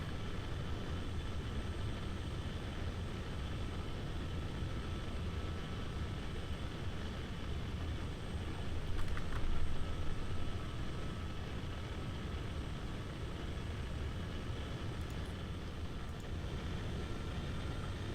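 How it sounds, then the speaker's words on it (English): A late Soviet-era jet lands on an aircraft carrier in a combat flight video game, a constant engine roar and airflow rumble holding steady with a slight swell midway. "Don't mind me just landing a late Soviet-era jet on a carrier."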